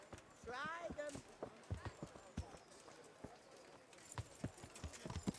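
Horse hooves clip-clop in the video game Kingdom Come Deliverance, a run of sharp, fairly close taps in an uneven rhythm, with a brief voiced sound near the start and a short pause midway before the steps resume.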